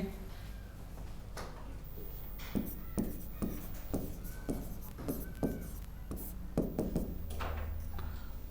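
A pen scratches out a Hindi word by hand in short, quiet strokes close by, with brief pauses between the strokes.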